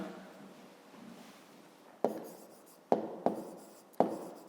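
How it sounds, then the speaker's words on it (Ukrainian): Pen or chalk handwriting a math solution, heard as a soft scratchy stroke followed by four sharp taps spaced apart, close and quiet with no talk. "Пишемо в дужках чого кілометрів."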